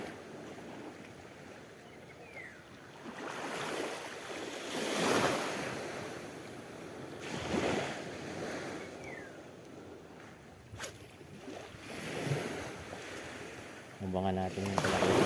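Waves wash in and retreat in slow surges on the seashore at midday against a steady windy hiss, with a brief mechanical whir near the end.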